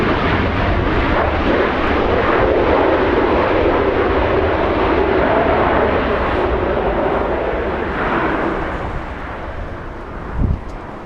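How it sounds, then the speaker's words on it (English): Lufthansa flight 457 departs Los Angeles International Airport, a powerful, continuous engine roar dominating throughout before easing slightly, with a brief thump near the end. "Lufthansa 457, the outbound."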